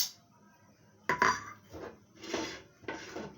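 Metal dishes, pots and utensils clatter and clink in a household kitchen in a few separate bursts, close and fairly loud, with quiet gaps between them and no talking.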